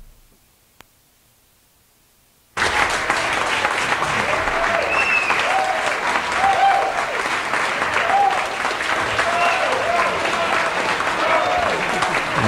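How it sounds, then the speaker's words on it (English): Studio audience applause at a radio jazz program bursts in abruptly after near silence and continues as a loud, dense wash of clapping, with a few voices and whistles rising through it. "We'll get this applause out of there in a minute"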